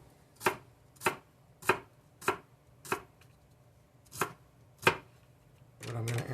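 A knife slices celery at an angle on a cutting board: seven crisp, evenly spaced chops close by, then a louder rustling noise at the end.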